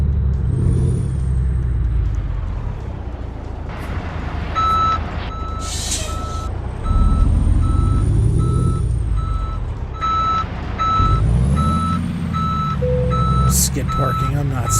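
Heavy truck reversing in American Truck Simulator, rhythmic backup beeps sounding over a loud low diesel rumble, with engine revs and a brief air-brake hiss; a voice talks intermittently.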